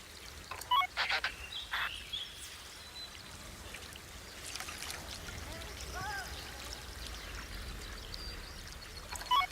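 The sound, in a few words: water pouring in Planet Zoo video game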